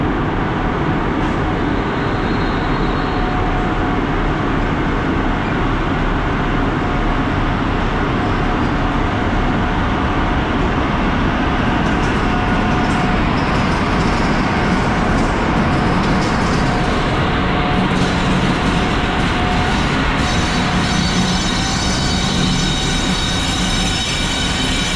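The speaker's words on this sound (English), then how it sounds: "we're going to take a look at the departure of the train here at the Cologne main station" An AKE Rheingold passenger train hauled by electric locomotive E03 001 departs Cologne main station, a loud continuous rumble of wheels and traction with rising squeals and rail noise throughout, no talk.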